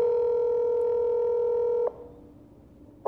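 A recorded phone call carries a steady, loud electronic telephone tone that holds for almost two seconds, then cuts off into faint line hiss before another tone briefly starts at the end.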